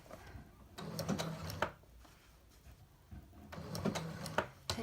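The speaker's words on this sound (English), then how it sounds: "I'm going to basically do one stitch at a time while we turn" A sewing machine stitches appliqué fabric slowly, a stitch at a time while the fabric is turned: two short runs of close mechanical whirring and clicking, separated by a quiet pause.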